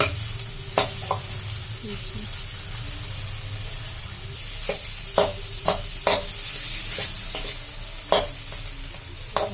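Fish masala frying in a pan with steady sizzling throughout, punctuated by repeated scraping clicks of a spoon stirring it, close and fairly loud with no talking.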